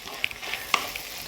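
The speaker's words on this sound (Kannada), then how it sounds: "ನೋಡಿ, ಇವಾಗ ಅರಿಶಿನ ಹಾಕ್ತಿದ್ದಂಗೆ" Turmeric dropped into hot oil for the tempering of avarekalu uppittu, giving a soft sizzle with a few sharp crackles and pops while a spoon stirs, close and alone.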